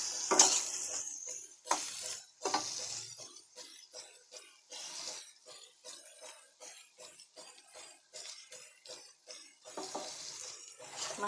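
Potatoes fry in a pan while being stirred, giving a quiet sizzle broken by repeated scraping and clinking strokes of a utensil at an uneven rhythm, close by and with no voices.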